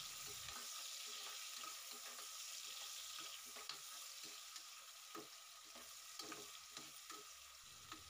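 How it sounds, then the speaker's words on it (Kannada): A large cut onion frying in a pan: a continuous hissing sizzle with frequent light clinks and scrapes from stirring, close and quiet, with no talking. "ಈಗ ಒಂದು ದೊಡ್ಡ ಈರುಳ್ಳಿನ ಕಟ್ ಮಾಡಿ ಹಾಕ್ಕೊಂಡು ಚೆನ್ನಾಗಿ ಫ್ರೈ ಮಾಡ್ಕೋಬೇಕು"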